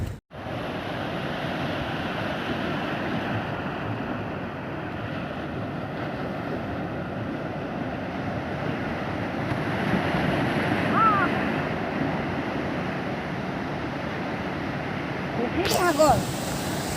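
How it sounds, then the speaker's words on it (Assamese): Sea waves wash onto the shore at Digha in a steady, broad rushing roar that swells slightly toward the end, with wind buffeting the microphone; a brief sharp noise cuts in near the finish. "এইখন বিশাল সাগৰ, সাগৰৰ পাৰত মই আছোঁ"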